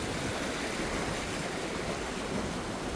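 A mountain river near Kedarnath in Uttarakhand, grown large where another stream joins it, roars in a steady close rush of churning water, unbroken and without any talking.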